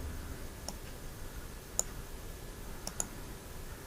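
A few sharp computer mouse clicks, sparse and isolated, close but quiet over a low steady background hum.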